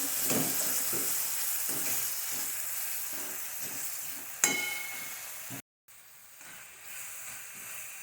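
Tomatoes with salt frying in oil in a pan, a steady close sizzle with intermittent stirring scrapes, a sharp clatter midway and a brief drop to silence before the frying hiss resumes.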